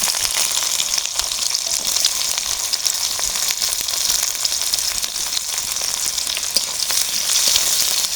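Chopped onion frying in hot oil with cumin, cinnamon, green and black cardamom, giving a steady, close, dense sizzle and crackle that runs unbroken from start to finish with no voices.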